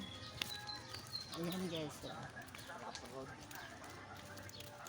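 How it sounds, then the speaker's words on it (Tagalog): Birds chirp faintly in the open air of farm fields while a person talks nearby, their voice carrying over the light calls. "Sarap dito oh, mga kasama mo, mga ibon."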